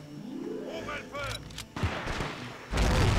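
Gunfire and a grenade blast in a shooter video game, with a few sharp shots early on, then a loud, dense burst of explosive noise near the end, and a voice briefly calling out in French.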